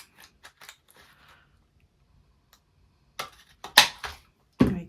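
Scissors snip through paper during a one-page pouch craft, a few faint cuts early on, then a quiet gap before several louder, close crisp cuts near the end, no talking.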